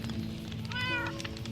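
A cat in the My Cozy Mangrove Swamp video game gives a single short, rising meow over soft background music.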